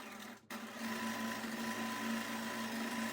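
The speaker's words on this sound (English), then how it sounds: "I'm just going to sew this side" A sewing machine stitches fabric for knife pleats at close range, starting after a short pause into a steady, even motor whir with a constant hum.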